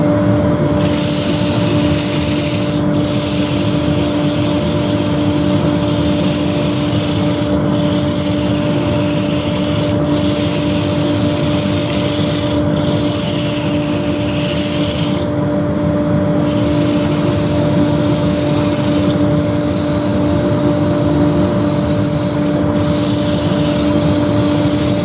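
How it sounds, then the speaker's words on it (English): Abrasive friction of 100-grit sandpaper against a wood three-leg stool spinning on a lathe, a steady close rubbing hiss over a constant motor hum, with a few short breaks where the paper lifts off. "I wouldn't leave the 100 grit until I've got rid of tears and flaws"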